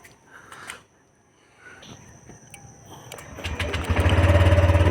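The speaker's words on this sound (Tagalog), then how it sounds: "painitin muna natin yung yung motor natin" A motorcycle engine warming up before dawn, faint sputters at first then building into a loud, steady close idle rumble by the end.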